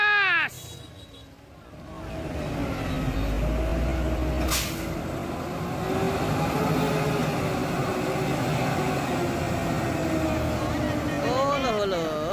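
A Euro 4 Hino FM 235JD truck towing an old Fuso truck, its diesel engine droning loud and steady under throttle with rising and falling pitch; brief voices at the start and end.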